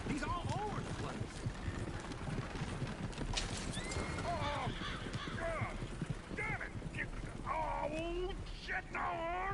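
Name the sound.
horse neighing and hooves, from video game Red Dead Redemption II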